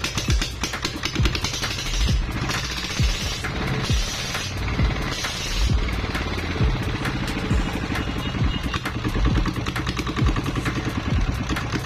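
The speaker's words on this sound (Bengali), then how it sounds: "ইঞ্জিনটা আরেকটু নিউট্রাল করে দেখাচ্ছি" A 4-HP engine idles steadily after sitting unused for a long time, giving a continuous mechanical chugging with rattly clatter, close and fairly loud throughout, with no talking.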